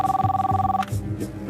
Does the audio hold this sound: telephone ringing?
yes